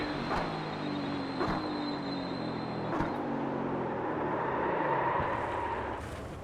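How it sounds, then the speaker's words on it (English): Ford Mustang GT4 race car in iRacing, engine droning continuously with rising and falling revs and sharp gear-change breaks, heard close from the cockpit. "that was the Mustang GT4 in its glory"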